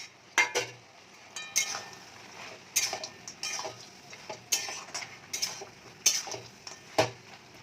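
Lentil dumplings drop into a pot of simmering greens and potatoes over a faint low sizzle, with several sharp clinks of a utensil against the pot at irregular intervals.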